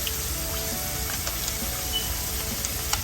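Turkey chops frying in a pan over medium-low heat, giving a steady, even sizzle with faint crackles and pops throughout, with no talking.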